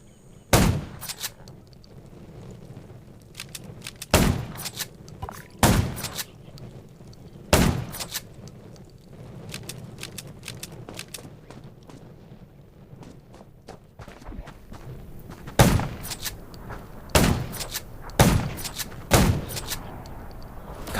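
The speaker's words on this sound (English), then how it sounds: "Gunshots will attract." Gunfire in the zombie video game Undawn: sharp single shots ring out irregularly over a steady ambient game background, in clusters of several near the end.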